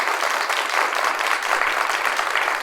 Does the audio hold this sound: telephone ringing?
no